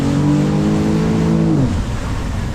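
A Ford Explorer engine still in break-in revs up in a short, loud acceleration, its tone holding steady then dropping off abruptly as the throttle closes, leaving a rough idle rumble.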